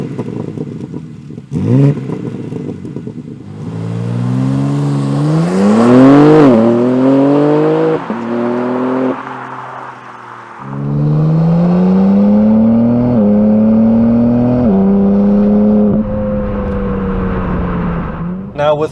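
A 2022 BMW M4 Competition xDrive in Sport Plus mode with exhaust valves open revs loudly, rising through several gear pulls with crackling pops between, close and dominant over the whole stretch.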